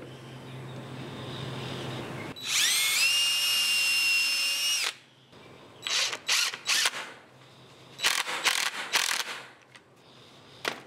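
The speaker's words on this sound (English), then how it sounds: "I like to pre-drill everything with a pilot hole so that they don't split" A power drill pre-drills pilot holes in two-by-two wood, whining steadily for a couple of seconds, then several shorter bursts follow in quick succession, close and loud, with quiet pauses between.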